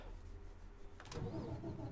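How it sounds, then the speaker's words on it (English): A Citybus 628c diesel bus engine cranks and fires up in the OMSI 2 bus simulator, a sharp starter burst followed by a rising, steady low rumble settling toward idle. "We're ready to start it up."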